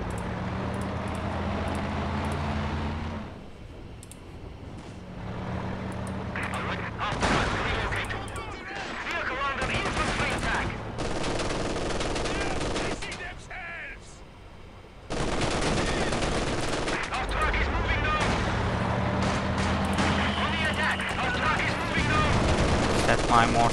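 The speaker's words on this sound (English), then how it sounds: "My mortars, or is there an enemy mortar?" Battle noise in Company of Heroes 2 includes mortar fire, with repeated gunfire bursts, heavy thumps and rumbling explosions in irregular clusters, loud and dense, broken by brief lulls and mixed with in-game voices.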